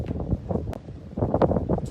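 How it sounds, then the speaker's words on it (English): Wind blowing across the microphone outdoors on a sunny coastline by the ocean, a steady low buffeting rumble with soft gusts over the whole short stretch. "Today is a bit windy."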